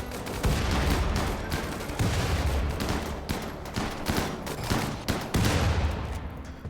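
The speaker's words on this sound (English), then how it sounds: "put our thumb on the scale with the EMP mortar" An EMP mortar firing in the RimWorld video game: a run of loud, heavy booming shots, roughly one every second or two, over a continuous rumbling battle din.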